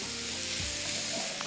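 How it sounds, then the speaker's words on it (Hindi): Beef pieces frying over high heat for a dry chili fry, giving a steady, moderately quiet sizzle with faint stirring scrapes and no talk. "और आंच कम नहीं करनी और बस इसको फ्राई करते जाएं।"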